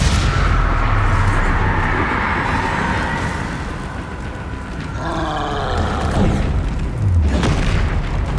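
Spell explosions, Bombarda and Confringo, go off in Hogwarts Legacy, with deep booming blasts and rumbling roars rolling on continuously and loudly, plus sweeping magical whooshes in the middle.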